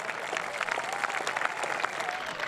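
Golf spectators at a women's final round in Victoria applaud in a sustained burst of clapping, moderately distant and steady, with a few louder claps scattered through.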